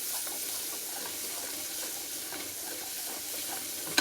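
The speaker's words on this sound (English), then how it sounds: "We're going to get this garlic cooking up nicely" Garlic fries in olive oil in a pot, giving a steady, close, even hiss of sizzling that runs unbroken throughout, with one small knock at the very end and no voices.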